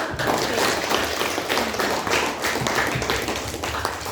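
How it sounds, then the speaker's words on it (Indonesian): Students in a classroom clap together in a steady, continuous burst of applause, loud and even throughout, with scattered thumps mixed into the clapping. "berikan tepuk tangan"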